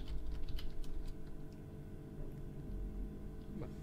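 Clicky keystrokes on a computer keyboard while entering a shell command, a quiet, close run of quick taps that thins out to sparse presses over a low background hum.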